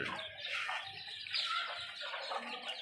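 Native chickens cluck and chatter close by beside a rooftop garden, several soft overlapping calls with no talking.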